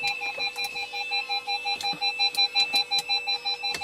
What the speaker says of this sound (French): je suis désolé pour le bip, c'est le bip de recul